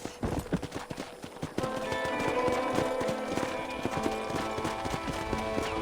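Steady clip-clop of horse hooves with an occasional whinny in the video game Red Dead Redemption, riding near a ranch and train station, over a tonal game score with little talk.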